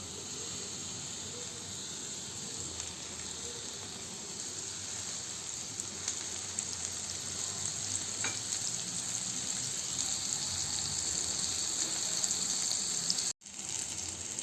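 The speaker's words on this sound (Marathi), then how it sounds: "बदाम आणि काजू आता हे सगळं आपण थोडंसं तेल घालून छान त्याला थोडंसं परतून घेऊया" Almonds and cashews sauté with onion in a little oil, giving a soft, even sizzle and hiss with faint stirring and no voices, broken once by a short dropout near the end.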